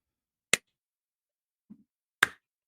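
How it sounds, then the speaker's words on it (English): A person makes a skull clap by striking the hands against the head, producing two sharp, isolated smacks about two seconds apart with a faint soft knock between them, in a quiet room. "I'm going to do the skull clap."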